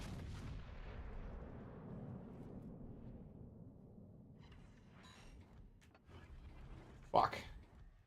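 Warship artillery fire in World of Warships rumbles through the opening seconds, then one sharp, loud gun blast cracks near the end over the low game din.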